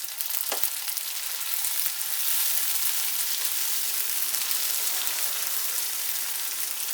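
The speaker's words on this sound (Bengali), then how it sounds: "পেঁয়াজটাকে আমি একটু ফ্রাই করে নিচ্ছি।" Onion, slit green chilies and chopped tomato frying in a pan for Bengali begun posto, a loud, dense, continuous sizzle like heavy rain, with one brief knock near the start.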